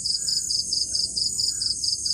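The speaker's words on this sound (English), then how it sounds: "It's crickets, cicadas, frogs, birds," Night insects in Thailand chirp in a steady pulsing chorus, crickets and cicadas trilling loudly in regular rapid bursts, with faint lower calls beneath.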